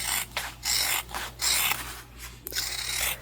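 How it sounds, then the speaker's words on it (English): Scissors trim around fabric pieces for rustic ghost-themed book sleeves, making a run of close, rhythmic rasping cuts with brief pauses between snips, with no talking. "And we are going to trim off all the way around"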